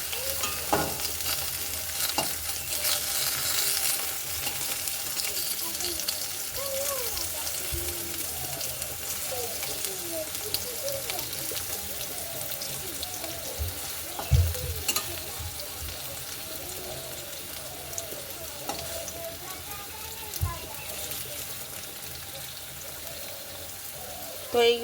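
Potatoes fry in oil for a papaya and mung dal khichuri, with a steady close sizzle running throughout and occasional stirring clinks and scrapes.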